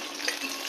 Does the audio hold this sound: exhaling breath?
no